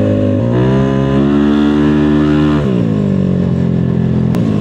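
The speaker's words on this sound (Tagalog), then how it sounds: "Susubukan natin ang gigil ng makina ni Julia ngayon, pero hindi top speed." A Yamaha Aerox 232cc motor scooter on the road, its engine loud and close as it revs up and holds a high, droning pitch, then drops and climbs again under steady riding noise.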